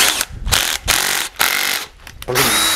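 Bursts of a Makita cordless screwdriver whirring loudly in short spurts separated by brief pauses, close up, with a mechanical grinding edge.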